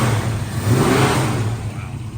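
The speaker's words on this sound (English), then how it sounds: "Go ahead and rev it for me. Hit it again." A 1968 Mercury Cougar V8 revs in a short, loud, close blip of throaty exhaust rising and falling over about two seconds.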